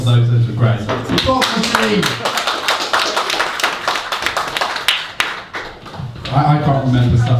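An audience claps for performers at a poetry show, a dense burst of applause that carries on under someone speaking and then fades as his talk continues.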